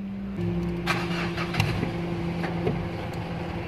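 A Mitsubishi Strada with a check engine light fault cranks briefly, fires up and keeps running at a steady idle close by, with no talking.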